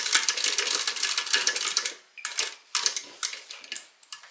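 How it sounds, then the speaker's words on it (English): A sewing machine back stitches across the edge of a bag strap, running in dense, steady bursts of needle clatter for about two seconds, then in several short stop-and-start runs separated by brief pauses. "I'm just going to back stitch across this edge here"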